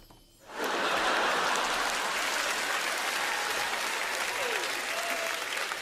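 Applause from a livestream audience of a post-game football reaction show breaks out after a short quiet start and holds steady, a dense, even wash of clapping.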